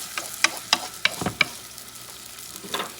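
Garlic frying in a pan is stirred for a Spanish fideos pasta with sangria meat sauce. A utensil scrapes and clacks in several sharp strokes over a soft, steady sizzle, close up and with no voices.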